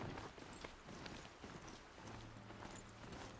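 Rapid clip-clop of a horse's hooves in the Horizon Zero Dawn video game, quick galloping beats over an ongoing game-world background, faint overall with no clear talk.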